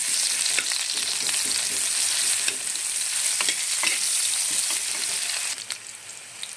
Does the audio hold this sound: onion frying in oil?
yes